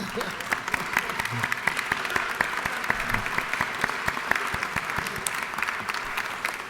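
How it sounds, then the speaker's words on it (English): A room full of people claps steadily and loudly, sustained applause with no pauses throughout. "please rise and give a welcome applause for the 100 years"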